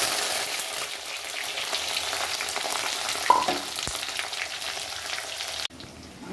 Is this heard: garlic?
yes